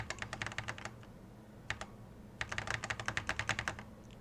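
Rapid clicking of arrow keys on an Apple IIe keyboard comes in bursts: a fast flurry, a brief pause, two lone taps, then another long run of crisp, close keystrokes with no voices.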